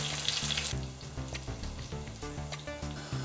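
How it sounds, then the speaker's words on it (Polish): Pork loin chops sizzling on a hot pan, with a bright hiss that is strongest at first and then continues more faintly under tonal music. "Na rozgrzaną patelnię wkładam kotleciki i będę grillowała tak po minucie, dwie z każdej strony"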